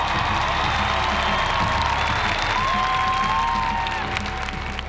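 A large stadium crowd at the Lucas Oil band finals applauds and cheers without a break, with whoops and shouts rising over a dense, continuous wash of clapping.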